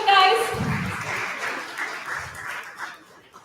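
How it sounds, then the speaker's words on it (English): Applause from an audience welcoming a UI architect onto the stage at a tech talk, a brief burst of clapping that fades under a voice speaking over it. "A round of applause for him, guys."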